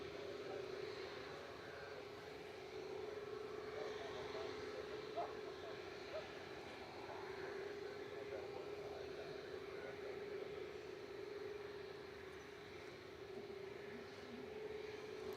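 At Manchester Airport, a distant airliner taxis with a faint, steady jet engine whine and rumble that holds throughout.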